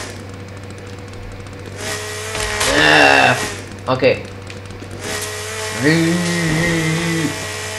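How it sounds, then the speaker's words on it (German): A chainsaw cuts a tree in The Forest video game, its engine whining in two strong bursts of rising and falling revs over a low idle hum, with a brief spoken word between them. "Mit der Kettensäge."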